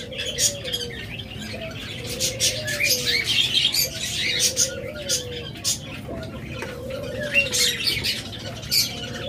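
Bright cockatiel chirps and tweets flutter through the clip in quick bursts at a bird sale, with a low talking voice underneath.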